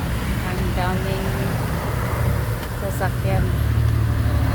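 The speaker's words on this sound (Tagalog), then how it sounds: "ang daming" Street traffic in Phuket old town, Thailand, with vehicles and motorcycles passing, a steady broadband road rumble with a few brief horn-like or squealing tones, while a person talks over it.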